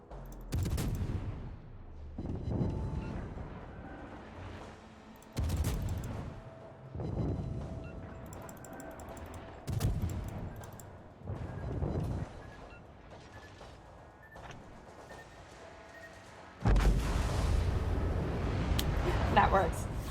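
Naval guns in a World of Warships-style game fire over an island in heavy booming salvos every couple of seconds, each blast decaying slowly, while a commentator talks over them.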